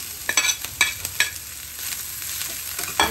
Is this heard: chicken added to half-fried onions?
yes